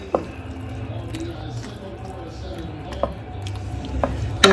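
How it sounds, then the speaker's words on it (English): A pot of chili with green chilies and tomato sauce is stirred, with soft squishy churning and a few scattered clinks of a utensil against the pot, alongside some faint speech. "Give this a stir."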